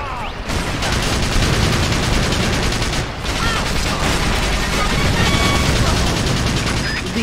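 Dense, continuous enemy gunfire in the Battalion Wars video game battle, rapid overlapping shots and machine-gun bursts filling the whole stretch loudly, with a brief dip near the middle.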